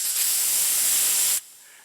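A performer at a university youth festival mimicry act imitates a pressure cooker whistle with the voice, a loud, hissing, steam-like blast lasting over a second that cuts off abruptly into quiet.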